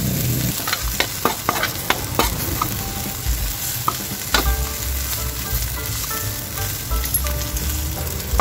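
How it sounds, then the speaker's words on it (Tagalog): Garlic and aromatics sautéed in oil in a pan for ginataang yellowfin with paku, a continuous close sizzle punctuated by sharp spatula clicks and scrapes against the pan. "At dito na rin tayo guys magigisa ng ating ricado."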